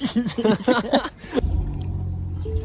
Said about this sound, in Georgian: მოვიდა ევაკუატორი მეგობრებო